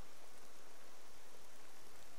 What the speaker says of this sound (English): Falkreath's always raining